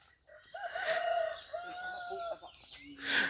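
Chickens cluck and a rooster crows at a small rural kitchen in the morning, several bird calls overlapping close by, with a voice briefly speaking underneath.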